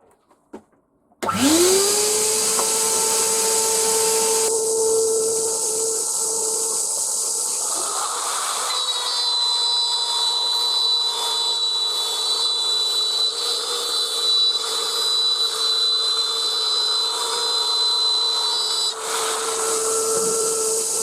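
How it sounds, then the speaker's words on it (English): A Trend T4 quarter-inch router runs along a straight edge cutting a rebate, spinning up with a rising whine, then holding a loud, steady high-pitched scream with a hissing cut before easing down near the end. "we're going to run the router along a straight edge and produce a rebate"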